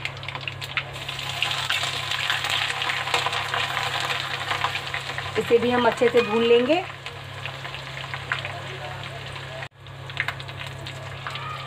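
Ginger-garlic paste fries in a pan for a bhindi aloo sabzi, with a continuous close sizzle, a brief stirring scrape midway and a short spoken phrase.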